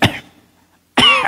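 Two short, sharp throat-clearing bursts, close and loud, separated by a brief silence.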